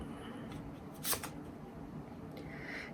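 Oracle cards shuffled by hand for a love reading, a quick soft riffle burst in the middle over a low room hum, with a faint second rustle near the end.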